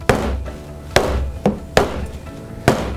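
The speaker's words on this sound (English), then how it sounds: "I can give it a final little tap with my hammer" A hammer gives sharp, close taps on the wooden frame of an embroidery canvas: five distinct knocks at an uneven pace, each ringing briefly with no talk between them.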